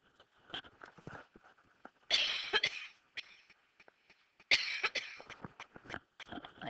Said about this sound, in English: I've had a cough, and there it is.